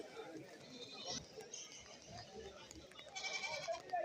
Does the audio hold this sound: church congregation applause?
no